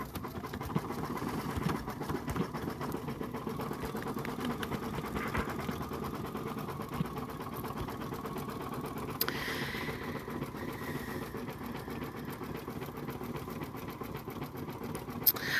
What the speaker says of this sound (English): we're going to do satin stitching now on the top part of the globe.